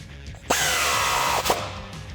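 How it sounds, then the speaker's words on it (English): A power tool spins down a nut on the axle-side sway bar mount of a Jeep Wrangler JK, a loud, close whine of about a second that cuts off abruptly, followed by a short ratcheting burst. "and then tighten the nut down"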